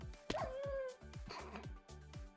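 Dogs in the video game Battle Builders give repeated yips and whimpering barks over game music and effects, in several short bursts.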